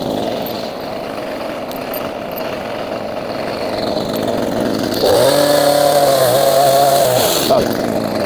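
A chainsaw with a dull chain drones steadily, then revs up hard and labours as it bites through a firewood log. The loud, close engine whine holds for a few seconds before easing off.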